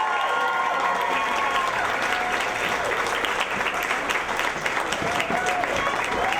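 Sustained audience applause with scattered cheers fills a small live music venue, Eddie's Attic, for a band; dense steady clapping runs throughout, loud and close, with faint voices mixed in.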